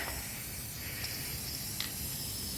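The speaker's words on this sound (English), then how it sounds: "So you just spray the area. And this stuff is super sticky." A steady, continuous hiss from a spray can of sticky adhesive, sprayed to patch a hole in a mower bag, runs throughout, close and even, with a few brief sharper bursts.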